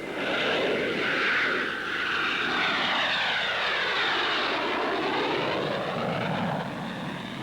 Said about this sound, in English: Orville and Wilbur Wright made man's first 4 controlled flights in a powered airplane.